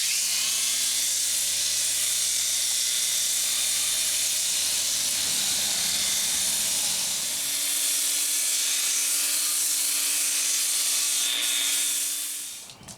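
A polisher spins its pads at about 2,800 RPM on a quartzite vanity top, a steady high whine with a rough grinding hiss beneath, running loud and even before winding down near the end.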